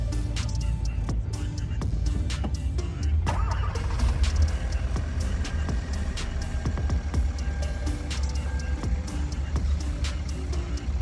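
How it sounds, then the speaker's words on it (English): A running Hyundai/Kia 1.6L car engine with a misfire hums steadily for the whole stretch, with low rumble and scattered clicks and knocks throughout. "The car is gonna be misfiring because it got some other issues."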